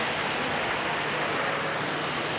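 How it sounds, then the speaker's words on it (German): A waterfall roars as a steady, dense rush of water, loud and close, with no pauses or voices. "Da ist noch Wasserfall"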